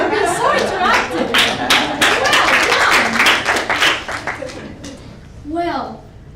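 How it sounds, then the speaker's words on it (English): Loud crowd applause and cheering at a live talk on pitching, a dense burst of clapping with excited voices that thins out after a few seconds as a single voice rises above it. "Give yourself a round of applause for being so interactive."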